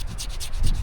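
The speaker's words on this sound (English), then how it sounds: "Take a knife and scrape off all this stuff on the outside." A knife scraping the fibrous outer layer off a plant stalk at a high-desert campsite, giving repeated rough rasping strokes in a steady back-and-forth rhythm, close and fairly loud, with no talking.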